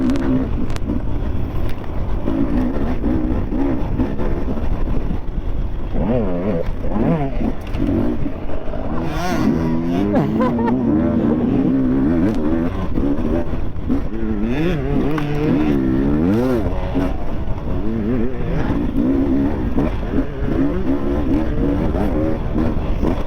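Enduro dirt bike ridden hard on an off-road course, its engine revving and dropping continuously at close range as the rider shifts and accelerates, loud and unbroken throughout.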